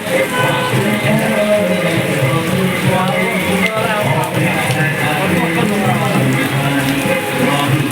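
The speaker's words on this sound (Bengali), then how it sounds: "কীভাবে বৃষ্টি হচ্ছে দেখেন" Heavy rain pours down on a market street during Durga Puja on Vijaya Dashami, a dense, steady hiss filling the scene while a person talks over it.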